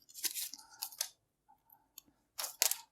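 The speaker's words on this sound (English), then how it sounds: "So yeah, doing a quick unwrapping." Plastic packaging around a GoPro Hero 12 Black camera is peeled and crinkled up close, in several short crackling bursts separated by quiet pauses.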